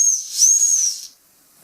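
A high, steady hiss of escaping steam from an Ernest Plank upright steam engine, with a whistling tone, loud and close, lasting about a second before fading out.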